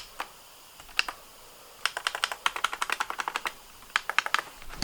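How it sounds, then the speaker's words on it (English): Clicky computer keyboard keys being typed on, a quick irregular run of sharp close-up clacks coming in bursts with short pauses, the keyboard itself heard alone with no voices. "And it even comes with clicky keys for the media"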